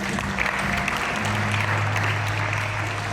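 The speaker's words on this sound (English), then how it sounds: "Sous vos applaudissements." Audience applause at a conference on a national AI strategy plan, a steady wash of clapping at moderate level with a low hum underneath throughout.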